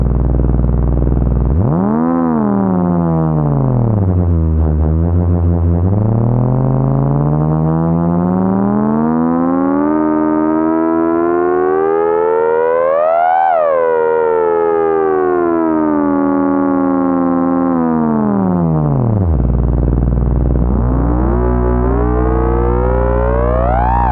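A Livewire Dalek Modulator synthesizer sweeps through sustained, buzzy tones that glide up and down in pitch like a warbling siren, loud and continuous with a sharp rise and fall in the middle, no speech.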